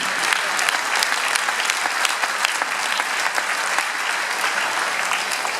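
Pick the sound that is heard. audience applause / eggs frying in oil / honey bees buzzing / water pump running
audience applause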